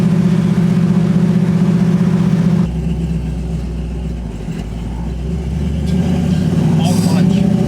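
A 1968 Camaro powered by a 540 cubic inch Cruiser big block V8 on the move, its engine a loud steady drone with a shift in tone partway through, plus a brief rise near the end.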